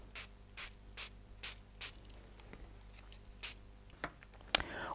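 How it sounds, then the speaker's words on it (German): Water sprayed from a spray bottle onto paper being embossed with a 3D embossing folder for a card, a series of six or seven short, sharp hissing spritzes spaced about half a second apart, close and fairly quiet. "jetzt sprühe ich das Ganze wieder mit Wasser ein"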